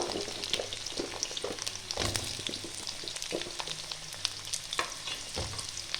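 Steady crackling sizzle of potatoes and kohlrabi frying in a hot wok, with occasional sharper pops and scraping clicks of a spatula throughout.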